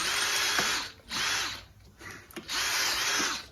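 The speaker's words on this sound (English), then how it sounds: "So we're gonna drill that hole." A power drill bores a hole while a bike engine kit is assembled: three close, loud whirring bursts, each with a rising and falling motor pitch, separated by short pauses.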